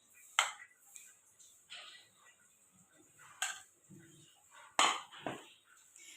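Two eggs are whisked with spices in a bowl for an egg and veg cheese paratha, with a few sharp utensil clinks against the bowl spaced a second or more apart over quiet background.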